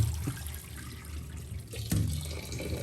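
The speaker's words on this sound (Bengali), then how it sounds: "তাহলে ডালটা ধুয়ে নিব।" Tap water runs steadily while lentils are washed in a home kitchen, a close, continuous splashing stream with a few brief clunks of the pot.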